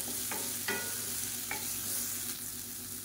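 Onion and tomato sautéing in a pan, with a continuous close sizzle broken by a few short scraping stirs of a spoon against the pan, and no voices.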